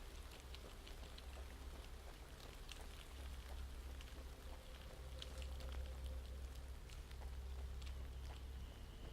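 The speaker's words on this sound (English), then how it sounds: "Sounds like the rain's easing off" Steady rain patters continuously in the horror video game Land of Pain, soft and even with scattered droplet ticks over a low rumbling ambience.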